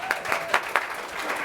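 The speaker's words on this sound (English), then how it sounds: "Give me a round of applause." Audience applause at a live talent show, a short stretch of clapping with a few sharper accented claps, moderately close with no talk over it.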